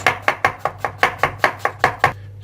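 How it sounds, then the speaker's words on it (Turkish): A knife chops onions on a board for homemade Adana and Urfa kebab: about eleven crisp, evenly spaced strikes, close and clear, with no talking. "Hemen soğanlarımızı kesiyoruz"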